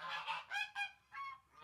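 Geese on a 40-acre farm honking in fall, five or six loud nasal calls in quick succession, fairly close and alone.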